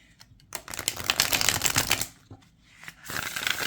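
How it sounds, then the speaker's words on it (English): A deck of oracle cards is riffle shuffled, producing a dense fluttering burst of card flicks, a brief pause, then another shorter riffle, close and fairly loud with no talk. "I like a good riffle shuffle"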